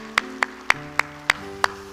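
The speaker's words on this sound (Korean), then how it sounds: "우리 하나님께 영광을 박수합시다" Six sharp, evenly spaced claps sound together in unison at a Korean church service, close and distinct over sustained organ-like tones.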